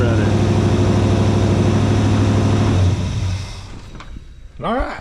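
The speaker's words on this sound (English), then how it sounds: "Turn the idle down a little bit, so it's idling at like 800 RPMs." A carbureted engine in a 1956 Chevrolet Bel Air idles with a loud, steady low rumble, then cuts out partway through, leaving quieter background. Someone speaks briefly near the end.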